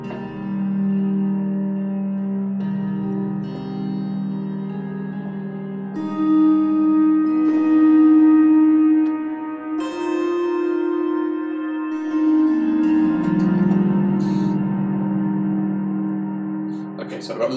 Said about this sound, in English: Loads of reverb on that, but you can see how useful that kind of sort of not too twangy, sort of a very warm sound to it.